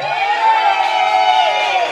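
A loud crowd at a Simba fan club night event cheers and shouts together in a sustained, close roar of voices with no pauses.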